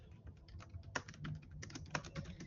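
Typing on a computer keyboard during an online logic session, a close, fairly quiet run of irregular key clicks with a few harder taps, without speech.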